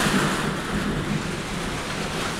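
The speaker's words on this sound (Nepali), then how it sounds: "आज हावाहुरी एकदम चलिरहेछ है गाइस। यत्रो रुख हल्लाइरहेछ हेर्नुस्, पानी परिरहेछ। एकदम भारी वर्षा छ है गाइस," Heavy rain pours down during a storm with strong wind shaking trees, a dense continuous hiss of downpour with low rumbling underneath, loud and steady throughout.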